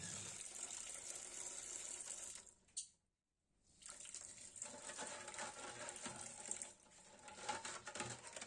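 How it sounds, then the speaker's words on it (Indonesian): Tap water runs steadily over eggs being washed in a sink, a soft continuous gushing that cuts out for a moment in the middle and then starts again, with no voices. "Pertama-tama telur ini kita cuci bersih terlebih dahulu."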